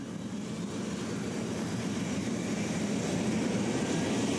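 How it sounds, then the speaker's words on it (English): A large twin-rotor helicopter's engines warm up, droning steadily with a low, rumbling whine, holding at a constant moderate level without speech. "I'm just warming up my engines"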